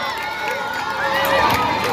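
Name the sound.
audience cheering and shouting with joy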